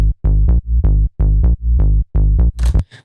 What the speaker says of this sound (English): I ended up with this bass sound right here.